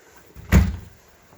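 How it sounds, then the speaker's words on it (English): The door of a tiny travel camper thuds shut once, a single loud, close knock in an otherwise quiet interior. "The door."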